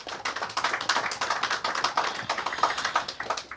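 A round of applause at the commissioning ceremony for the Perseverance Landfill, dense rapid clapping from an indoor audience, steady and fairly close, with no talk over it.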